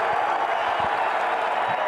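A wrestling arena crowd at a Big Ten championship bout roars in a dense, sustained wash of cheering and scattered clapping, with faint thumps from the mat below.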